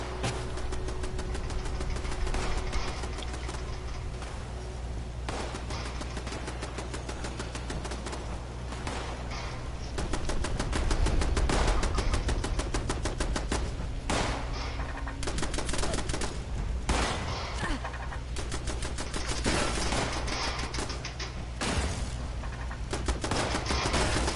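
Rapid automatic gunfire rattles in the Fallout 76 video game on PlayStation 4 as shots hit a piece of wood, with dense sustained bursts and engine-like rumble throughout and no talking.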